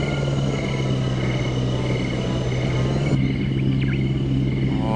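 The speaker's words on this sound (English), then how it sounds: "We get to fly a helicopter." A helicopter in the video game Jurassic Park: Operation Genesis drones with a steady, low rotor hum and rumble, the tone shifting slightly partway through with faint animal-like calls.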